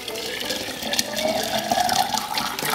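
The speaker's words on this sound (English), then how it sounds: "I'm pouring my boiling water in." Boiling water pours steadily into a clean glass jar in a sink, splashing and gurgling with a rising hollow tone as the container fills, close by.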